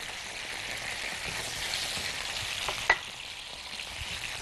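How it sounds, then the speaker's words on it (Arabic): Chicken coated in barbecue sauce sizzles in a grill pan, a steady close crackling fry with a sharp pop near the end and no voices. "كله يتشوي مع بعضه اهو، كله في نفس الجريل بتاعتي او في نفس الطاسة"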